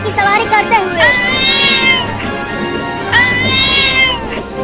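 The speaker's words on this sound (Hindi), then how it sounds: "ये बिल्ली इतना बोल क्यों रही है?" A cat gives two loud, close, drawn-out meows separated by a short pause, each one wavering and rising then falling in pitch, with no other sounds around them.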